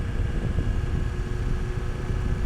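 A BMW S 1000 XR motorcycle engine idling at low throttle, a close, low, uneven rumble with slight irregular stumbles, steady for a couple of seconds with no voices.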